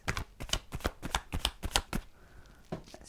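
Oracle cards being handled and flipped during a love reading, a quick run of crisp slaps and shuffling snaps in steady bursts, close and fairly loud, then a short pause before a few more flicks.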